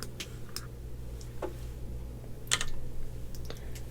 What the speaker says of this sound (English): I'm going to shuffle that.